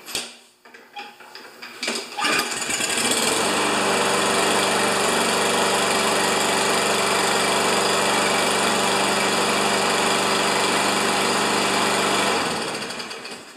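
A Toro Recycler walk-behind lawn mower with a sticky choke starts after a few sputtering pull attempts, then its small engine runs at a steady, loud drone for about ten seconds before winding down.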